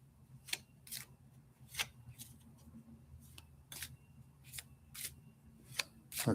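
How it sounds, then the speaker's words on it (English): Tarot cards being shuffled by hand, a sequence of crisp, snapping flicks and riffles spaced irregularly over a quiet background, close and fairly light. "I'll get the cards all nice and shuffled"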